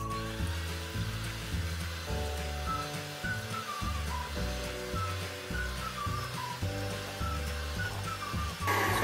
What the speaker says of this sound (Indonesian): Sekarang saya mixer putih telur.